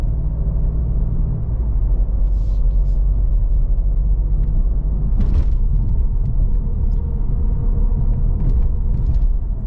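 A 2024 Maserati GranTurismo Trofeo cruises down the road in sport mode, giving a steady low engine and road rumble heard from inside the cabin, with a few brief knocks and clicks.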